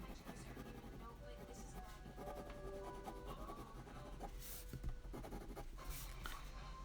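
Pencil sketching on paper while adding details to a drawing: faint, steady scratching and rubbing strokes, close and soft, with continuous light texture throughout.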